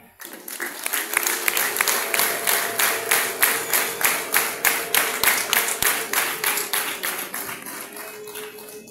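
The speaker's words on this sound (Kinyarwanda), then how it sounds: "umuhe amashyi y'impundu" An audience at a Catholic diocesan education celebration applauds and ululates to welcome a guest, with rhythmic group clapping in a steady beat over a sustained high trilling cry that runs for several seconds.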